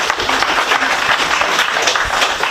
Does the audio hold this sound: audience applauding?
yes